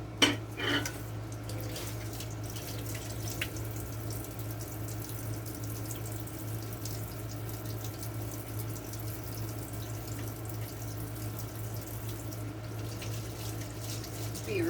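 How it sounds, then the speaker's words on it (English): A kitchen sink tap runs steadily while hands are washed beneath it, a continuous soft hiss of water with a few faint clinks at the start and end. "so I'm going to wash my hands again"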